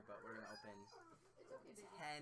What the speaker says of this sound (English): sorry if you hear the dogs in the background